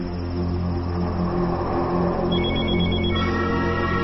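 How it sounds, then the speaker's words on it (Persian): A telephone rings with a continuous electronic trill, steady and fairly loud, under a busy background with no speech. "این صدای تلفن از کجا؟"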